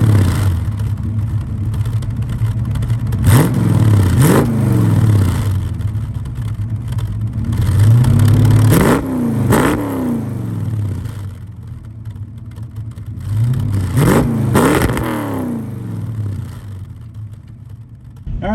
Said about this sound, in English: let's go ahead, get this thing fired up. We'll get a couple exhaust clips